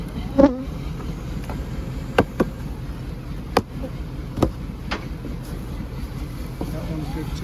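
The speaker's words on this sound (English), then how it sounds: "every bee space is full of bees" Honeybees drone in a dense, steady buzz from a full hive close to the microphone, with a few sharp clicks and knocks of hive equipment scattered through.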